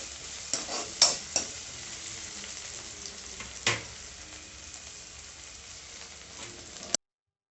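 Curry leaves sautéing in a pan for egg rice, a crackling sizzle with a few sharp spatula clinks early on, steady and close, cutting off abruptly at the end.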